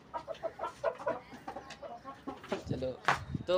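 Pet chickens cluck in short, repeated bursts at close range, mixed with bird calls and someone talking over them outdoors on the first day of Eid.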